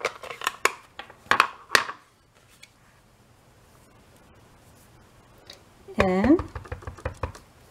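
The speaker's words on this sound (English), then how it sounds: "Now inside, I think I got my chair that I'm going to stamp again there." A rubber stamp bearing a chair image pressed onto paper indoors, giving a few sharp knocks and taps early on, then a quiet pause, then more clustered taps under a brief spoken word.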